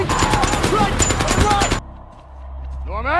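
Rapid bursts of gunfire rattle through a loud war-film battle scene with a tank, a dense continuous barrage that cuts abruptly to quieter rumbling and a rising whine.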